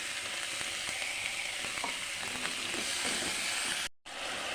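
Chili paste and coriander paste with turmeric powder fry in a pan with ginger, garlic and onion pastes. The sizzle is a continuous, even crackle with a few faint stirring taps and one very brief break near the end.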